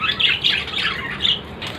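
Breeding birds in a master cage squawk and chirp in quick, close, repeated bursts with no pauses between calls.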